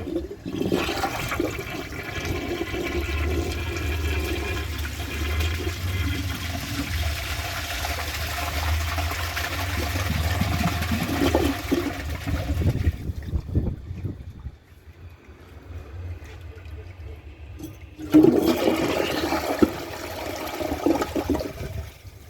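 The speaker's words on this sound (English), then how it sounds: "let's give these two one last flush each" American Standard Plebe and AquaSource Henshaw toilets are flushed in turn. A loud, long rushing flush with a low gurgle fades out and gives way to near silence. A second flush then starts abruptly at the end.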